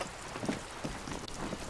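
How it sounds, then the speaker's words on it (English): Rain falls onto wooden boards and surrounding water in the Disco Elysium video game, a soft, continuous patter with scattered brighter drops and small splashes, quiet and close. "All around you, rain keeps falling down. On the wooden boards she's standing on, and on the water around you."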